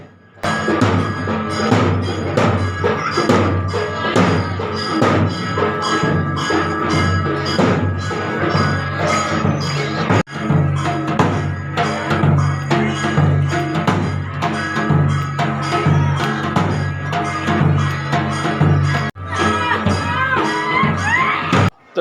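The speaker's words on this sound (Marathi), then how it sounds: "आता आरतीला खूप खूप गर्दी झालेली आहे" Dense crowd of devotees packed in for temple aarti at a Kalbhairavnath shrine in Sonari, a steady roaring wash of many voices, shouts and chatter filling the space continuously and loudly throughout.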